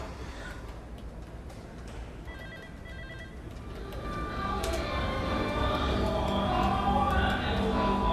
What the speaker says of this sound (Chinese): 电话响了